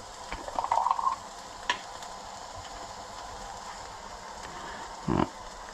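Ginger and garlic hit a hot pan for a homemade curry, giving a soft, steady sizzle near the microphone with a couple of brief stirring scrapes.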